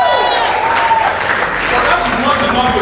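A student audience at a university symposium in Nsukka claps in a dense, continuous patter that sits under a man's loud amplified speech.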